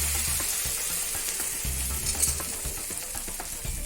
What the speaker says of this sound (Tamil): தோசை சுட்டுக்கலாம். டவா வந்து சூடாயிடுச்சு.